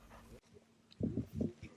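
A tracking dog whimpers and whines in short, close bursts during a tracking trial, with a few quiet yips after a brief sound at the start.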